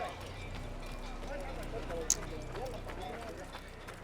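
A white horse galloping in the video game Assassin's Creed, faint steady rhythmic hoofbeats under quiet game ambience, with talking partly over it.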